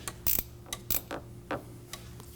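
A ratchet wrench turning a reamer while cleaning out a diesel glow plug bore, giving a string of sharp, close mechanical clicks in irregular bursts, some louder than others, over a steady low hum.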